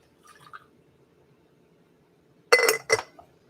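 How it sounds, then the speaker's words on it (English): Preheating water dumped out of a cup, a brief splash and glassy clink in two quick bursts after a faint earlier clatter, close and fairly loud. "We'll toss out that water,"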